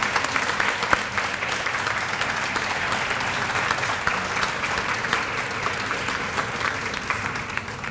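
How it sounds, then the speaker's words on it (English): An audience at a school retirement tea applauds a high school chamber choir, with even, sustained clapping from a full room lasting throughout at moderate loudness and no voices. "Let's give them another big round of applause."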